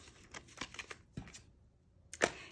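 Tarot cards are shuffled up close in a few quick, soft riffling and tapping bursts, with a short pause before a final sharper snap; no one speaks.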